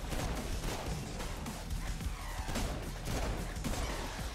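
Rapid, dense bursts of gunfire and booming cannon shots in the video game Saints Row IV crackle continuously at moderate volume, with no pause.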